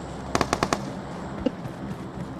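Gunfire in the PUBG Mobile battle royale game: a quick burst of five sharp shots, then a single later shot, over a steady game background, with no talk.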